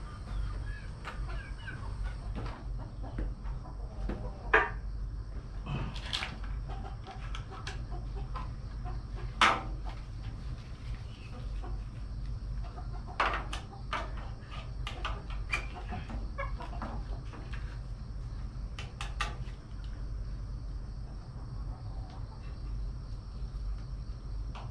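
Chickens cluck intermittently as they are taken out of their enclosure, with scattered sharp calls and rustling over a steady hum of insects and background noise, fairly faint throughout.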